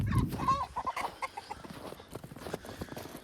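A Rhode Island Red rooster clucks in a short run of nearby calls, with a strong throaty note at the start and softer clucks and rustling on a farm.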